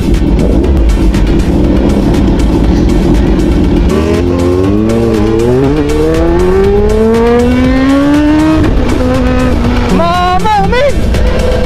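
Kawasaki ZH2 motorcycle engine revving hard during a test drive, rising engine tones climbing through gears under steady wind and road roar, with a voice talking over it.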